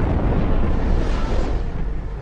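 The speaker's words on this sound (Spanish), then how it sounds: "se provoca la explosión" Explosives blast salt from the walls of an underground salt mine: a loud, deep, continuous rumbling roar that fills the space for a couple of seconds without letting up.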